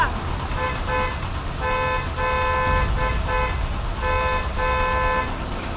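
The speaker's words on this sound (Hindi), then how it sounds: "क्या बेकार में हॉर्न मार रहा है?" Repeated car horn honks in short and long bursts over steady traffic noise, loud and close, with several separate blasts spread across the clip.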